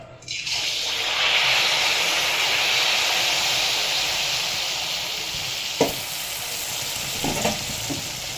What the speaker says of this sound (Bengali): তেল গরম হয়ে গেছে এবারে দিয়ে দেবো মালপোয়া